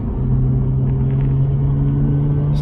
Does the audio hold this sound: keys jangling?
no